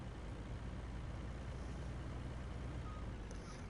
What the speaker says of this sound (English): now I just need to get this truck out of here